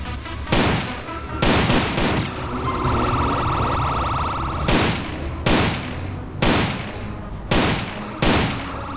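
A Hitman-style .45 pistol in GTA San Andreas fires repeated loud, booming shots at irregular intervals over a steady hum of traffic and street ambience in the game.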